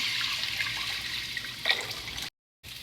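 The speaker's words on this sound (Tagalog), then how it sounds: "sa pinagprituhan natin at pinaggisahan ng tokwa is maglagay tayo ng sabaw" Broth is poured into a pan already used for frying and sautéing tofu, giving a steady, close liquid pour that briefly cuts out before resuming.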